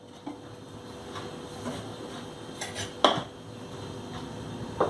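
A metal cooking pot is picked up and handled in a home kitchen while making prawn and egg biryani, giving a few scattered clanks and knocks, one sharper clatter midway, over quiet room noise.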